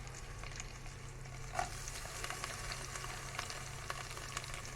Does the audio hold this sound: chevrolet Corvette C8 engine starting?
no